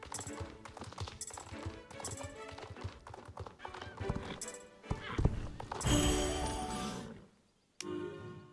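Horse hooves clip-clop in rhythmic bursts in the video game Star Stable Online, mixed with game music and jingling, with a whinny and a brief silent gap near the end.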